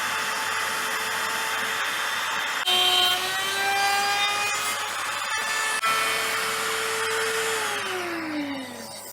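A router cuts the neck mortise of an acoustic guitar body, a loud steady whine with shifting tonal pitch that drops and winds down at the end.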